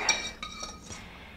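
Utensil scraping and clinking in a pan while lobster mac and cheese is stirred together with its sauce, a few close metallic chinks and brief scrapes, fairly quiet.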